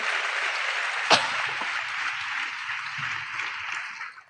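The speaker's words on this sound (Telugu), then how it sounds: "చప్పట్లు కొడితే యేసయ్యకు స్తోత్రాలు చెప్పు" A church congregation claps in praise during a sermon, a sustained wash of applause with one sharp nearby clap early on, fading slightly toward the end.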